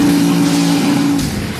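A car on a concrete strip at a street legal drag racing event on Woodward Avenue, its engine holding a steady loud drone with a brief burst of rushing noise near the end.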